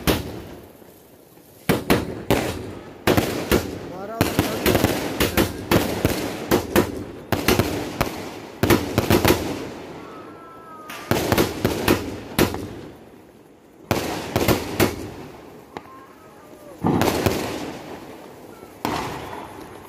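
A 60-shot Diwali sky shot cake fires in rapid runs of launches and sharp bursts overhead, loud crackling volleys separated by short gaps, repeating in clusters across the span.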